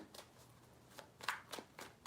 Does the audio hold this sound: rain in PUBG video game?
no